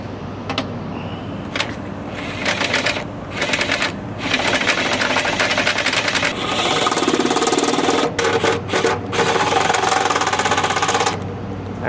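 Power driver tightening a fastener on an electrical disconnect, rapid buzzing bursts of ratcheting whir that start and stop repeatedly, close and fairly loud.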